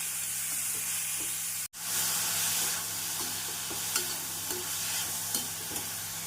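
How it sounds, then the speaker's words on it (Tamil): Grated carrots sauté with onions in a pan over medium heat for carrot rice, a soft continuous sizzle with spoon scrapes and stirring taps, close up and without speech. "கேரட் சேர்த்து நாம் மிதமான தீயில் ஒரு 2 நிமிடம் வதக்க வேண்டும்."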